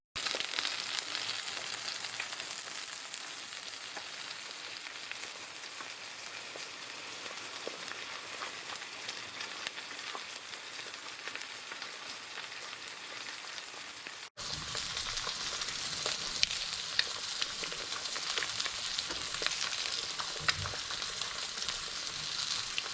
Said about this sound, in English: Now the idea with this egg is get the white nice and cooked, but we want the yolk to stay a